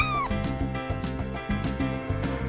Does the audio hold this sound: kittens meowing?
yes